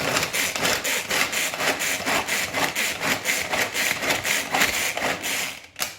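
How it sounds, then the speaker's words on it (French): Garlic cloves being chopped in a Tornado manual pull-cord chopper, a loud close whirring rasp pulsing in rapid regular bursts as the blades spin, stopping abruptly near the end. "on va les hacher à l'aide du tornado"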